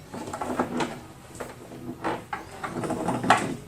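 Shower heater module sliding out of a cabinet in a Roost Vans Sprinter van, with a series of close scraping knocks, clunks and rattles spread over a few seconds.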